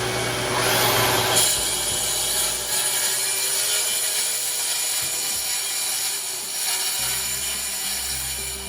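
Track saw cutting through wood with a dust collector running, a steady whining saw and rushing air noise, close and fairly loud with no talking.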